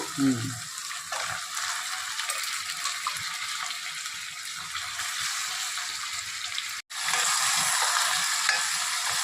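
Chicken pieces frying in cooked-down masala for a Telugu-style gongura chicken curry give off a steady, loud broadband sizzle for the whole stretch, with a voice briefly at the start and a short drop near the end.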